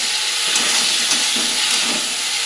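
Flat beans stir-fried with tomato and spices give off a steady, close, loud hiss of frying that carries on without a break and without any voice over it.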